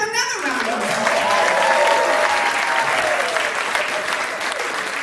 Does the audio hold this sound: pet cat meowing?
no